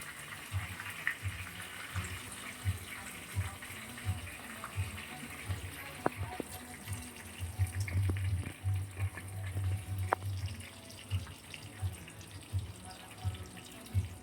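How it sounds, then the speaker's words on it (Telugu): Bitter gourd pieces frying in oil, a continuous gentle sizzle and bubbling hiss with occasional soft knocks and scrapes from a utensil in the pan, quiet and close. "ఇప్పుడు మనం మన కాకరకాయల్ని ఆ నూనెలోకి వేసుకొని వేయించుకుందాము."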